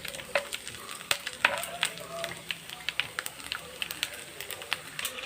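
Beef for a Kerala-style beef fry frying with coconut pieces in a pan, a moderate close sizzle broken by frequent sharp crackles and spatter pops, steady throughout with no clear talking.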